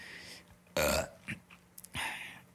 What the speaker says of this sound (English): I'm going to address my burping, by the way.